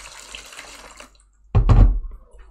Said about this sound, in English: I then take a large tub with some more hot water.